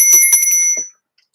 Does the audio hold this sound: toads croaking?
no